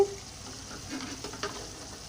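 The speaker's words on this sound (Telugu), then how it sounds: "ఇప్పుడు మనం చింత చిగురు వేసేసుకుందామండి." Mutton curry sizzles steadily in a hot pan as tamarind leaves go in, a soft continuous frying hiss with a few faint stirring scrapes, no voices.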